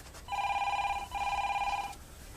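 A telephone bell rings in two steady bursts close by, with a short gap between them, over a quiet room with no talk.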